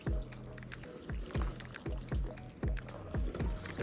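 Distilled water poured onto a houseplant, a close trickling pour that splashes in several short bursts with brief pauses between them.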